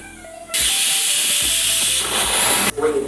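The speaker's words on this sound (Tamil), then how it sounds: "இப்போ விசில் வந்துருச்சு" A pressure cooker holding country chicken lets off a loud, sustained hiss of steam for about two seconds, starting abruptly and cutting off sharply, close by with no talk.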